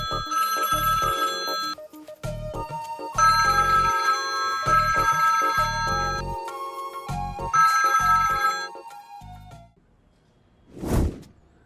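A phone ringtone plays after a call is placed to a daughter, three bursts of bright chiming melody separated by short gaps, then a single soft whoosh near the end.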